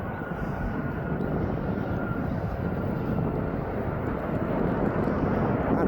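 A SunExpress airliner arriving from Antalya roars in to land, a loud, dense, continuous jet engine rumble that holds steady and swells slightly toward the end, heard alone without talk.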